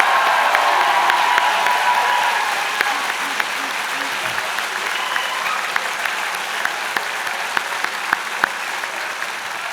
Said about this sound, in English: how about one last huge round of applause and cheer for all the graduating class of 2019